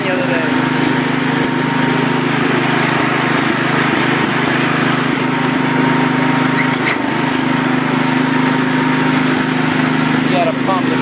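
An old Cub tractor engine running after a cold start, a loud, steady, slightly rough putter that holds even throughout.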